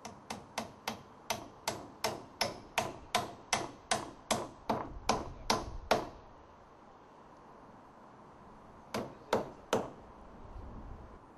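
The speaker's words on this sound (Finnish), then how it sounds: "Naulaa yläsidepuut harjalta kiinni toisiinsa." Hammer blows nailing the top tie beams of a roof truss together at the ridge, a fast steady series of sharp close strikes, a pause with faint background, then three more blows.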